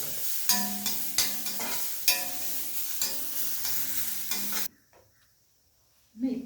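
Grated coconut roasts in a pan until golden, a spatula stirring and scraping in rhythmic strokes over a soft sizzle, then the sound drops away to near silence before a brief clatter.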